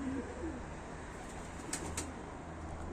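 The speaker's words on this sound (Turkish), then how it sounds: "Bu da yandaki arkadaşın kuşları o da uçuruyor." Tumbler pigeons fly outdoors, with a soft quick flutter of flapping wings over a constant open-air background. A faint cooing is also heard.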